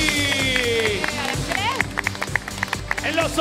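Studio audience applause for a guest on a television game show, scattered claps building up under music and overlapping voices.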